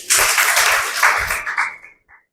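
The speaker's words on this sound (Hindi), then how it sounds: "अब ताली बजाओ।" An audience at a Brahma Kumaris spiritual talk breaks into loud, close applause that holds for about two seconds, then tapers off quickly to silence.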